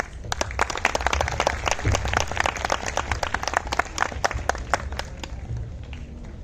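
At a school annual prize distribution ceremony, an audience breaks into lively applause, many hands clapping unevenly with a soft crowd hum beneath.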